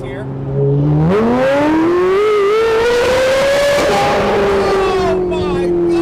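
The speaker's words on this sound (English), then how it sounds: "Okay, I'm gonna give it a little gas here." A Porsche 918 accelerating with a loud exhaust, its engine note climbing steadily in pitch as it revs up close and loud through a sustained pull.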